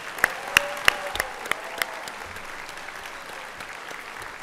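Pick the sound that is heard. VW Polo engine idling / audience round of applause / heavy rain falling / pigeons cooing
audience round of applause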